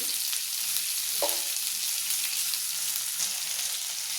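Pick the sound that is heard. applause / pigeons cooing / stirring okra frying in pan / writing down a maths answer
stirring okra frying in pan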